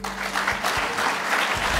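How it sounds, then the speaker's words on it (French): Audience applause at a trade convention, a dense, steady wash of clapping from a seated crowd that holds even throughout, with no voices over it. "je vous demande de les applaudir."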